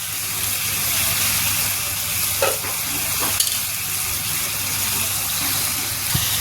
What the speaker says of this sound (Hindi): ये इधर टमाटर हम भून रहे हैं